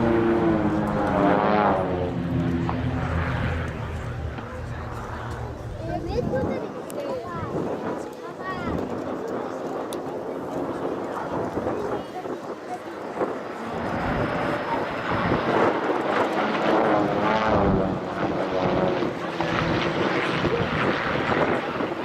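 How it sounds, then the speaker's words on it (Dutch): Marchetti SF-260 propeller planes of the Red Devils team fly in formation at an air show, a continuous loud engine drone that rises and falls as they pass, with a commentator talking over it. "komen ze naar het publiek toegevlogen voor een looping in de Zwaanformatie"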